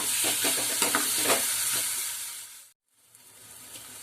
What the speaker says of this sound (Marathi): आता हे फक्त 1 मिनिट जरा परतून घ्यायचं